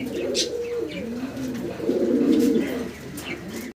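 Pigeons coo close by in a loft, a series of low, rolling, throaty coos that rise and fall in overlapping phrases, with a few faint chirps from other birds around them.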